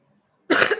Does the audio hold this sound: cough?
yes